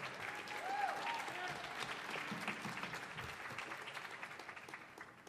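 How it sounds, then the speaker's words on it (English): An audience at a good old-time music and clogging performance on the Millennium Stage gives a steady round of applause for a master clogging artist, fairly close and fading slightly toward the end, with a few voices mixed in. "Give him another round of applause."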